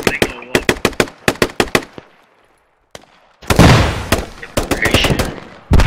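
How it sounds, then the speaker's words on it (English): Gunfire in the video game Squad: a quick string of loud, sharp close shots, a short lull, then a denser burst of heavy fire with echoing reports. "We're kind of shooting inside the main bay."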